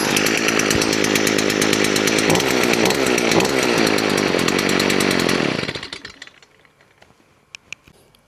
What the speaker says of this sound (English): We're only going to put on the machine until it fires up